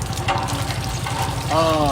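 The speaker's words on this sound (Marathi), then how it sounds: "आता शेतात काम केल्यानंतर दमून भागून हातपाय धुवायला आम्ही या पंपावर आलो आहे" Water splashing from a farm hand pump as people wash hands and feet after fieldwork, a steady pour with rhythmic pumping underneath and voices talking over it.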